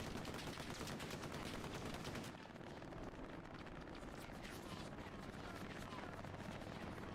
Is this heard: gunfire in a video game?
yes